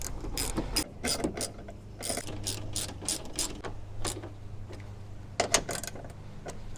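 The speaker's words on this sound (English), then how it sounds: "I guess put the screw back in there." Ratchet driving a screw back into a Toyota 4Runner headlight: quick close bursts of sharp ratchet clicks in several runs separated by short pauses, with no talk.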